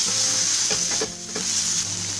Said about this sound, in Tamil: ஆனியன் ஸ்மெல் போகிற வரைக்கும் ஆனியனை ஃப்ரை பண்ணிக்கலாம்.